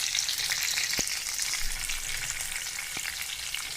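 Green chilies frying in hot oil with cumin seeds and curry leaves for tempered leftover rice, giving a steady, close hiss of sizzling broken by a couple of sharp spatter pops.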